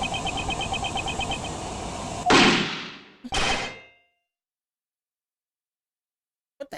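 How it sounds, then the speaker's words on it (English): In the video game Ace Attorney Investigations 2, a recorded ambience with a chirping tone is cut by a loud sharp bang and a second shorter burst, then silence, with a faint click at the end. "That was a gunshot!"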